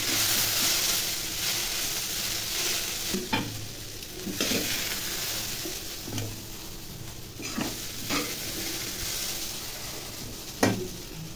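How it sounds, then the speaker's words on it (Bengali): Potatoes stir-frying in a pan with nigella seeds and green chillies, a steady close sizzle broken by repeated scraping stirs from a spatula. "কালো জিরে ফোড়ন দিয়েছি, আর লঙ্কা দিয়েছি আলুর সাথে"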